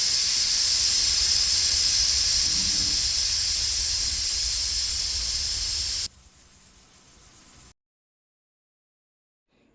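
A pressure cooker of jackfruit and potato curry cooking on a high gas flame blows its whistle, a loud steady hissing jet of steam lasting about six seconds. It then drops to a faint hiss and cuts to silence.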